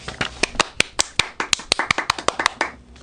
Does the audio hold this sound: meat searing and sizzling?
no